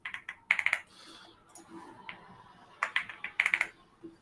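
A computer keyboard clatters in quick bursts of typing, loud and close, with pauses between the bursts and quiet background noise.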